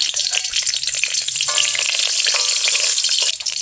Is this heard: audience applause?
no